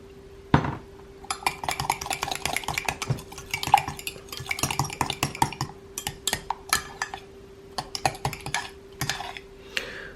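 Dairy-free, grain-free chaffle batter with hot sauce is stirred in a bowl, a utensil clinking and scraping in quick, irregular bursts, close by, with no talking and a steady low hum underneath.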